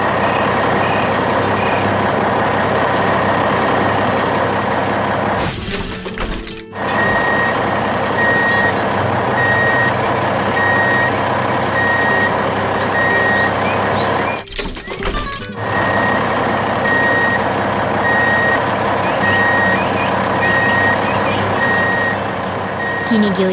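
Road construction machinery, a red road roller and an asphalt paver spreading hot asphalt, rumbles loudly and steadily while a reversing beeper repeats throughout, broken by a couple of brief thunks.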